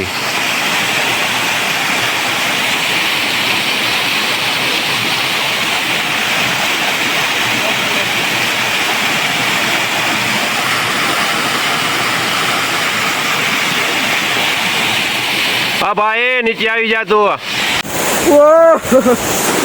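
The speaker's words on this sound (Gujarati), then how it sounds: "આમ જોઈ લ્યો આ ધોધ પડે અહીંથી" A forest waterfall on a hillside roars in a dense, constant wash of falling water, loud and near, with a voice calling out over it near the end.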